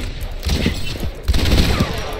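Rapid, loud gunshots in the video game Overwatch during a 3v3 elimination match: two dense bursts of fire, close and harsh, with a short gap between them.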